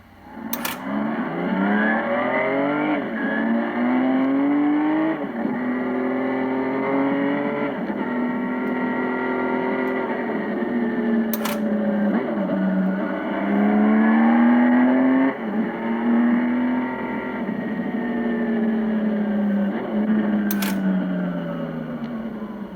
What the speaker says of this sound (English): The CBX is an ultra-smooth 6-cylinder, 6-carburetor, 24-valve, double overhead camshaft, 1047cc engine that produces over 100 horsepower.